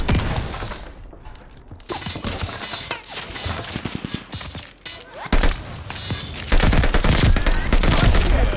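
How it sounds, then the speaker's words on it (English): Call of Duty Vanguard gunfire, dense bursts of automatic weapon fire and shots from several directions in a multiplayer match, loud and continuous with louder sustained volleys near the end. "I don't know who's shooting me"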